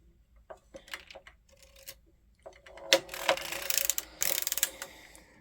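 A circular sock knitting machine is hand-cranked, giving scattered clicks and ticks that build into a busier run of rapid ratcheting, metallic clatter toward the end.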